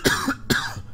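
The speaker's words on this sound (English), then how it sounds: "Sorry for the coughing." Two sharp coughs from a person recovering from a cold, close to the mic, evenly spaced about half a second apart with no talking.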